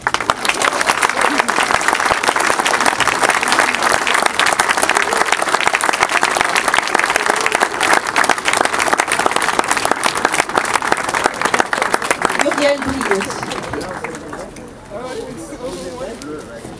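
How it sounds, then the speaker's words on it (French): Sustained audience applause after a poem tribute to Nelson Mandela, dense loud clapping for about thirteen seconds before thinning and fading out. "Ô applaudite cives, citoyens applaudissez"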